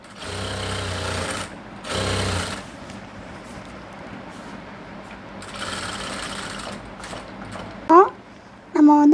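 A sewing machine stitches the side joint of a chudi in short loud bursts of rapid, buzzing needle chatter separated by pauses, ending with a couple of sharp squeaks.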